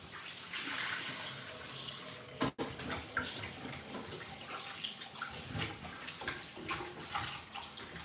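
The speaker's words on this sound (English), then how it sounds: "When you're washing your yam, make sure you wash it very well." Tap water runs steadily over a yam being washed in a kitchen, a close, continuous splashing stream with one brief thump partway through.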